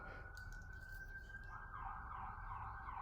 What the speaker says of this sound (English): ambulance driving past